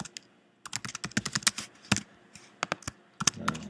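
Rapid typing on a computer keyboard, a close, irregular burst of crisp key clicks after a brief pause, with no talking.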